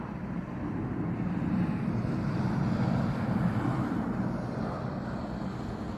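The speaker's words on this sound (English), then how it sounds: "a plane comes in to land in LaGuardia Airport" An airplane approaching to land at LaGuardia Airport in New York City, a steady low broadband roar that holds loud and even throughout with wind noise, no voices.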